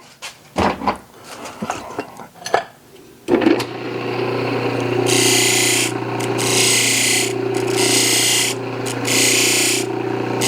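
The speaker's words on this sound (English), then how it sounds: "I'm going to go over to the buffer and buff the OD, put a little chamfer on that" A bench buffing wheel runs with a steady motor whir while a metal oil ring's outer edge is rounded against it, giving several loud, rasping bursts of contact, after some scattered handling knocks at the start.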